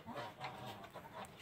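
Clucking from a rescued laying hen with badly feather-pecked, nearly bare wings, soft and close, a steady run of short murmured calls.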